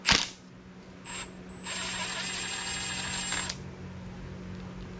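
A ratchet loosening the generator mount bolts on a Willys Jeep F-head engine during a teardown, with a sharp clank followed by bursts of close, rapid mechanical clicking in a quiet workshop.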